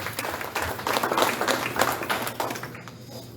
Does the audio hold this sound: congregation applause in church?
yes